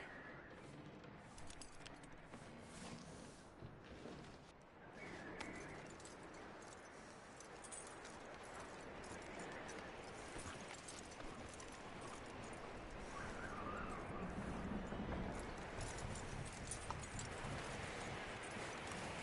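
A horse's hooves clopping in a video game, a steady, fairly faint rhythmic clip-clop over constant ambient noise, with no clear neighing heard.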